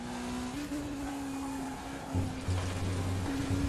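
A race car driven on the Nordschleife in the RaceRoom video game, engine droning and shifting pitch under load with steady revving and a few tone changes, fairly quiet and alone.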